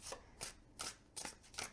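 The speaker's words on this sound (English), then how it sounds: "They slide and hand-to-hand shuffle easily" A tarot deck is shuffled hand to hand, giving five quick, soft papery slides at a roughly even rhythm, close and quiet with no talk.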